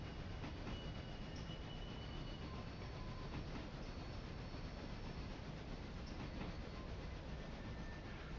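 Several locomotives haul a train up a steep railroad grade, a steady dense rumble of rolling cars and engines with faint wheel clatter and squeals, continuous and close, with no talking.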